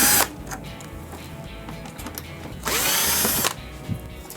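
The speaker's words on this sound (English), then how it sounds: "now we'll remove the 3 Phillips screws" A power drill backs Phillips screws out of the control panel of a Samsung washer: short whirring runs with pauses between them and one longer, louder burst near the end, close up and with no voices.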